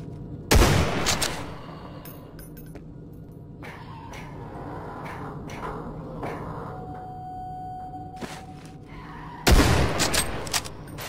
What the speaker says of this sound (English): I have an automatic sniper rifle.